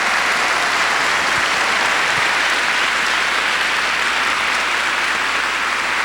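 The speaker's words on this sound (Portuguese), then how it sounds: "Dá uma salva de palmas para a pessoa agora, para ela." A church congregation applauds at a Catholic priest's Mass, a steady, dense clapping that stays loud and even for the whole stretch, with no voices on top.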